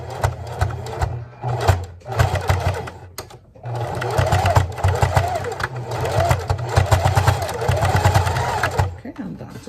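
A sewing machine stitching a fabric wallet runs in steady, close, whirring bursts with brief pauses between runs, and someone talks over it at times.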